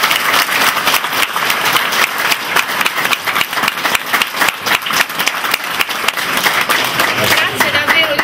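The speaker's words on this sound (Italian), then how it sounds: "farei davvero un applauso a tutti." Loud, dense applause from a crowd at an outdoor memorial ceremony in Ortona, steady clapping sustained throughout.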